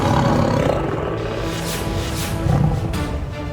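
A deep, rumbling tiger roar rolls out over a dense background, loud and close, with a second surge of growling toward the end.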